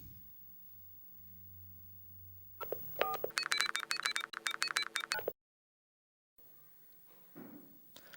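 A telephone number being dialed: after a quiet low hum, a rapid run of about a dozen sharp touch-tone beeps sounds, then silence before faint background noise returns.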